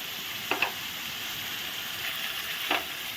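Coriander powder and spices stirred and frying in a pan for a chana dal dish, a soft continuous sizzle with a few sharp scraping clicks of stirring, close and moderately quiet.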